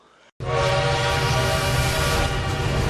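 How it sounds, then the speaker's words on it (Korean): A loud, sustained train horn blares steadily after a brief quiet moment, its harmonic tone holding strong with the rumble of a train beneath it. "기차의 기적소리는 선명하게 들렸습니다."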